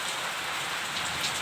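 Heavy rain pouring steadily onto surfaces during a thunderstorm, a dense, even hiss of drops that holds unchanged throughout with no voices.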